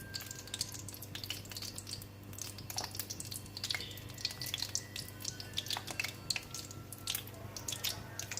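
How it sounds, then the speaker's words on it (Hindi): Potato chips drop one by one into hot oil to fry, giving a quiet, continuous crackling sizzle with scattered drips and pops over a low steady hum, close by and without speech. "तेल हमारा गर्म हो गया है। अब जो है हम एक एक जो चिप्स है इसमें इस तरीके से डालते जाएंगे।"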